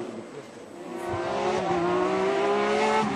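A powerful Porsche GT rally car in the GT+ class at the Rallye du Touquet revs and accelerates, its engine note climbing steadily and growing louder as it nears.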